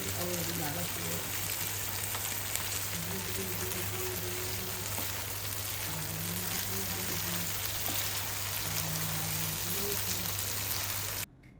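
Beef kala bhuna meat fries and is stirred in a pan, giving a soft continuous sizzle beneath a person talking throughout, and it cuts off abruptly at the end.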